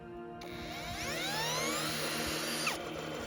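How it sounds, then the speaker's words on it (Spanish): A cordless drill whirs up to speed as it spins a modified generator setup, its rising whine sweeping upward over a steady low hum, then cutting off abruptly near the end. "Y con un taladro de batería, damos un movimiento inicial al sistema."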